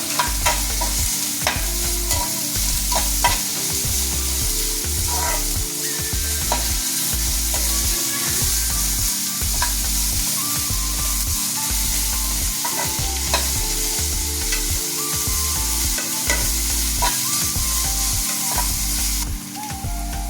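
Beans and carrots are tossed and stir-fried for veg noodles, a loud close sizzle running continuously with a rapid, repeated clatter of a utensil against the pan in regular bursts throughout.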